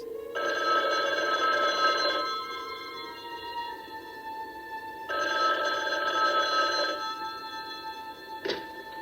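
An old push-button room telephone rings in two long electronic bursts separated by a pause, loud and close, ending with a brief click; no one speaks.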